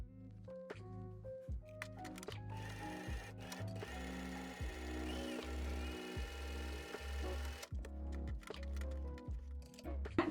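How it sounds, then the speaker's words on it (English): Sewing machine stitching a t-shirt with a zigzag stitch, running in fast mechanical bursts with a steady motor hum and rhythmic needle clatter, close by and speeding up and slowing down between short pauses. "I'm going to jump onto my sewing machine and stitch that with a zigzag stitch"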